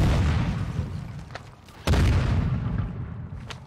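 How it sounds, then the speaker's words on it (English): Heavy booms and bursts of gunfire from a shooter video game as grenades are thrown everywhere, a loud blast landing midway over a continuous rumble of combat. "Throwing grenades everywhere."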